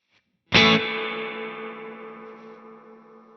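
A Strymon Volante echo pedal with spring reverb set to long decay: a single struck electric guitar sound rings out, then a dense, shimmering tail slowly fades over several seconds.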